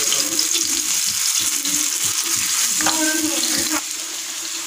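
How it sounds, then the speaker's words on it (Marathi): Paneer pieces frying on a tava give a loud, continuous close sizzle that eases slightly near the end, with no one speaking. "आता आपण तव्यामध्ये छान फ्राय करून घेऊ"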